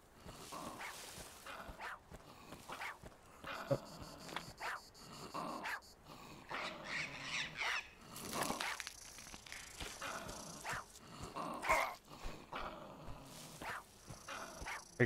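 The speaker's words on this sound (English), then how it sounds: "Can't see the little dog." A small dog in a survival video game barks, yips and growls repeatedly in short bursts at a fairly faint level, with whimpering notes between, no speech.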